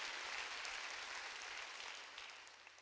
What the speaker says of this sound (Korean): 깨달은 사람만 박수 치라고. 세게 치라고 박수.